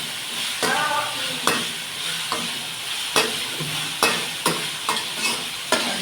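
Tomato and onion sauté in a pan for tomato sambar, a soft sizzle broken by sharp, regular spoon clacks against the pan roughly every second, close and without talk.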